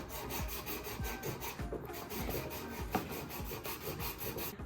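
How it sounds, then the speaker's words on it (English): Wood furniture being sanded flat by hand with a grippy sanding block, a steady rhythmic rubbing and scraping of back-and-forth strokes, close and fairly quiet. "It's literally just straight flat, but it has a really nice grip so that you can just sand flat like that."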